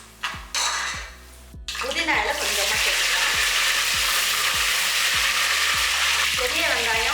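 Mint leaves, pepper, cumin and spices frying in hot oil for mutton biryani, a loud steady sizzle with a spoon stirring and scraping the pot at a regular rhythm, clanking near the start.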